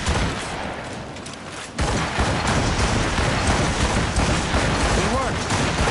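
In Assassin's Creed Rogue, a ship's cannons fire a volley. The booming shots are loud and dense and pile into a sustained rumble of gunfire that rises sharply partway through and keeps rolling to the end.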